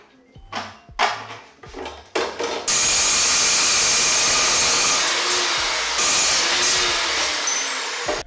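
A chop saw cuts metal parts for a steering quickener on a rally Subaru with an EJ207 engine. A few knocks and handling sounds come first, then a loud, sustained grinding whine that runs to the end.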